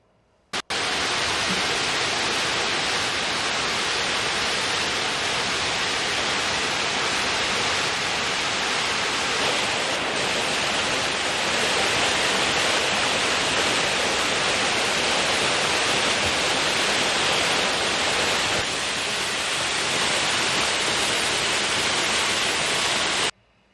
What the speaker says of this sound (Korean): 우선 여러분들한테 이 폭포 소리를